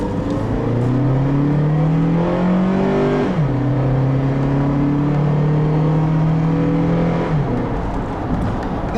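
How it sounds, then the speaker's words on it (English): A 2010 Honda CR-V with a 2.4-liter four-cylinder and five-speed automatic accelerates steadily, its engine drone rising in pitch through the gears with two clear upshifts, loud and close inside the cabin with no talking. "You can see the acceleration in this car is not the best."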